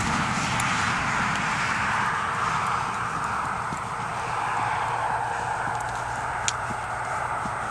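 A mustang gelding being ridden in a training session, hooves clip-clopping in a steady rhythm under continuous broadband noise, with no voices.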